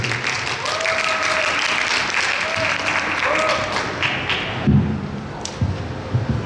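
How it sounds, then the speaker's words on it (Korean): Theatre audience at a talk concert for the stage play Bea applauds with dense, steady clapping for several seconds, then it drops off quickly, leaving scattered thuds. "그럼 박수로 청해드리겠습니다"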